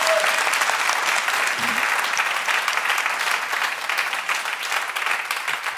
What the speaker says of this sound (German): deswegen kann man auch mehrere Applaus geben, oder?